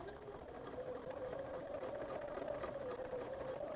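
Close by, a sewing machine stitches a mini quilt with a fast, even motor whir and a steady needle rhythm that runs without pause and stays fairly quiet, with no speech.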